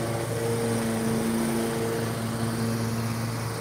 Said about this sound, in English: They're mowing right now.